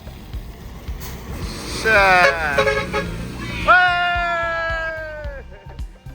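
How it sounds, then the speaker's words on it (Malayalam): A local school bus passes on a rural village road in Fiji, sounding two loud, wavering horn blasts close by over a low engine and road rumble, with voices nearby. "ഇത് കണ്ടോ, ഒരു ബസ് കണ്ടോ, ലോക്കൽ ബസ്."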